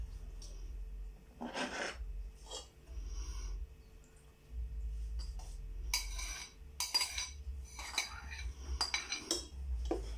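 A chocolate mousse mixture folded in a bowl, with repeated scraping and clinking of a utensil against the bowl in irregular strokes over a low steady background hum.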